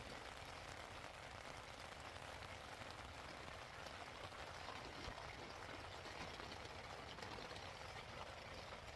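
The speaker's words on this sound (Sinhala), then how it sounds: "එළිය තාම වහිනවා." Rain falling steadily outside a tent while hiking at Wangedigala, a dense, even patter that stays constant and fairly soft throughout.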